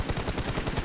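Rapid gunfire from a video game team deathmatch, a dense run of repeated shots at an even pace, moderately loud with no talk over it.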